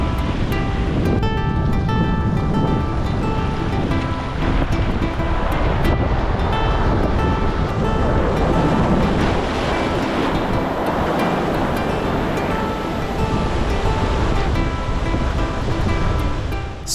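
Ocean waves at low tide on a Mornington Peninsula back beach, a continuous loud roar of surf mixed with buffeting wind on the microphone, steady and unbroken with no voices.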